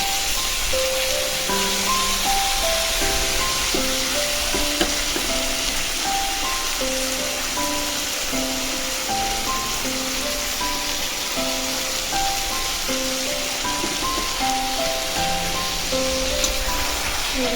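Spice paste of cumin and coriander powder frying in a pan, a steady dense sizzle like rain on a surface, continuous and moderately loud, with faint background music.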